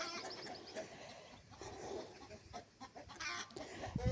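Chickens cluck and squawk in a noisy farmyard, fairly faint and mixed with other animal and background sounds.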